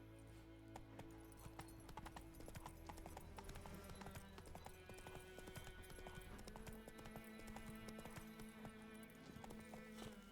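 Roach, a horse in The Witcher 3 video game, gallops with steady, rapid clip-clop hoofbeats, loud and close for the whole stretch over a layered orchestral score, with a brief whinny.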